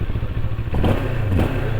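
A Moto Morini X-Cape 649 motorcycle engine rumbles steadily up close, a deep continuous idle with slight mechanical clatter and no talk over it.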